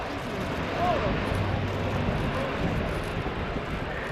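An Airbus A400M Atlas military transport roars in a steady, loud, broad drone as it banks into a steep turn after takeoff at the RIAT 2017 air show, with a commentator talking over it.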